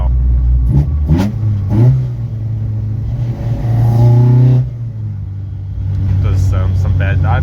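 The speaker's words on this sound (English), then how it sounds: "The engine sounds fine now." A VW Mk2 fitted with a 16-valve engine on individual throttle bodies revs up and down several times at a dyno day, loud and close, with rising and falling engine tones between short pauses.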